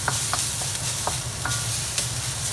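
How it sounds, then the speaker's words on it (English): Vegetables stir-fry in a big frying pan, with a constant loud sizzle and hiss and the periodic scrape and clatter of a utensil stirring through the food, close up and with no voices. "So stir as we fry"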